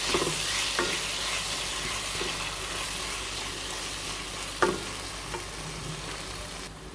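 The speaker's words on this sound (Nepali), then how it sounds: "मजाले चलाउने। यो टमाटर चाहिँ मजाले पकाउनु पर्यो।" Tomatoes with garlic-ginger paste are stirred in a pan for pasta, making a constant close sizzle with occasional scrapes and one louder knock of the utensil near the end.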